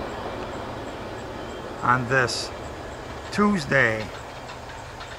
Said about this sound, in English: Train is CSX Q158 heading east.